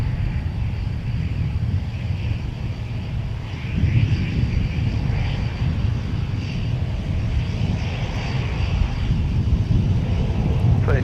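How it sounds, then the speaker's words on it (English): Propeller-driven C-130 aircraft on short final approach at a busy airport, a steady droning engine rumble that swells louder partway through, distant and continuous. "you got two C-130s on short final. All three of these aircrafts propeller driven."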